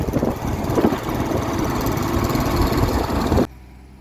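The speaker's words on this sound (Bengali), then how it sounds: "আমাদের দুটো গাড়ি সামনেতে যাচ্ছে" A vehicle engine drones steadily at close range while travelling a forest road at night behind two other vehicles, a continuous rumbling hum that cuts off abruptly near the end.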